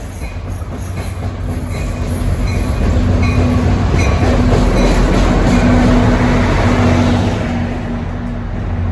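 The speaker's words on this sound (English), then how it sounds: "this is train 1163 bound for Waldwick." A New Jersey Transit commuter train rolls past close by near Ridgewood, a loud rumble and clatter swelling over several seconds and then easing slightly, with no talking.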